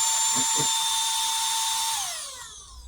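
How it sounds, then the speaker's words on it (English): A small electric air pump's motor whines at a steady high pitch, then winds down as it shuts off, with a couple of brief low thumps early on. "air pump that's a little bit loud."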